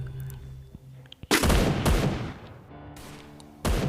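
Kar98 bolt-action rifle shots in a shooting video game: four sharp, loud blasts spaced unevenly, with quieter mechanical handling sounds in the gaps.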